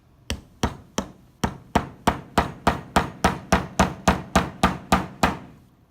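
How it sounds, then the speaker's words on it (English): An awl is hammered through stacked book pages into a wooden block: about sixteen sharp, evenly spaced knocks, close and loud, with no voices. "Drive the awl into the block of wood."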